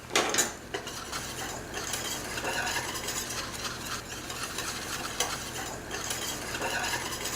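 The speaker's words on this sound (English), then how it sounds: "garlic powder, our paprika, and our onion powder. And we're going to whisk those in." Whisk scraping around a pot as garlic powder, paprika and onion powder are stirred into a creamy mac and cheese sauce, a continuous brisk rattling rhythm, close and moderately quiet, with no talk.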